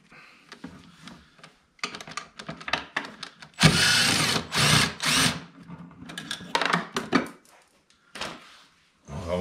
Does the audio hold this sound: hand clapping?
no